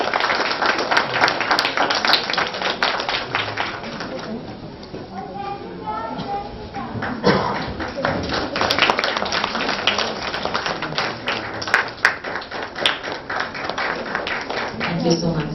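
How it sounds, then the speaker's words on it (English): Clapping from an audience at a school prize-giving ceremony, sharp irregular claps through most of the stretch with a brief lull in the middle and a voice heard faintly near it. "Big round of applause, please."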